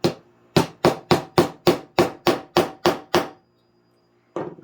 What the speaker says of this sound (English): Use my teeny tiny hammer.